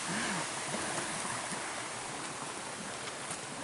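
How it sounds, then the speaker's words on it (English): A small waterfall right beside a hiking trail on Black Bear Mountain, a steady broadband rush of falling water, continuous and fairly close, with no talking. "wait a minute, I hear a waterfall"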